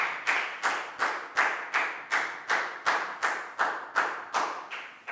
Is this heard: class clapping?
yes